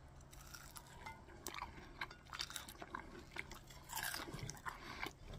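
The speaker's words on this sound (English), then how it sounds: "Y'all hear how crunchy that chicken is." Close-up chewing and biting of crunchy, crusty gluten-free General Tso's chicken, with repeated crisp crunches over about five seconds and no talking.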